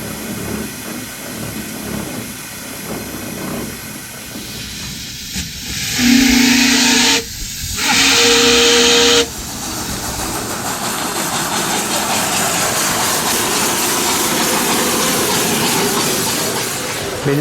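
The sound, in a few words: 1910 Stanley Type R steam car engine running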